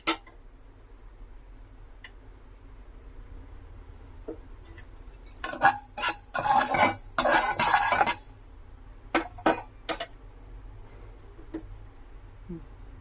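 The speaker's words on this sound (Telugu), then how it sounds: "ఇవి చిటపట్టమంటే ఫ్రై అయిపోయినట్టేనండి" Tempering spices crackle and fry in hot oil while being stirred for gongura pickle, a dense burst of popping and scraping in the middle after a quiet start, then a few scattered clinks near the end.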